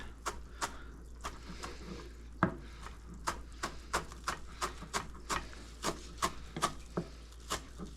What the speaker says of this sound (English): I'm going to do a fine little mince here.